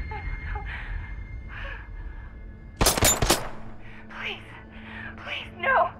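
A short, loud burst of gunfire around the middle of a Batman: Arkham Knight game scene, standing out over quieter talk and ambient noise before and after.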